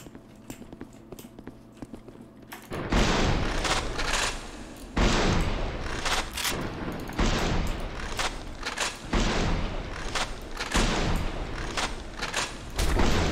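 Gunfire rattles in the John Wick Simulator video game, repeated loud bursts of shots in close, uneven volleys that carry on for about ten seconds.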